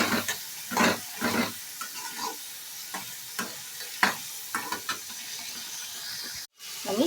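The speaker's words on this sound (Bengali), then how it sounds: "এবার আমি এটাকে ভালো করে কষবো।" Small new potatoes with a little sugar and green peas are stir-fried in a pan for vegetarian aloo dum, a soft continuous sizzle punctuated by repeated scraping stirs at an uneven pace, close up and without voices.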